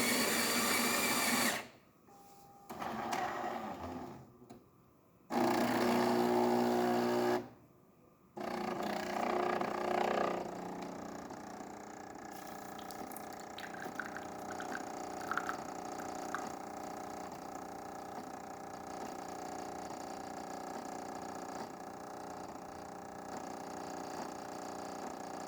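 Jura A1 espresso machine brewing a test shot after a full service, with bursts of loud grinding and pump buzzing separated by short pauses, then a steadier humming pump drone as the shot pours.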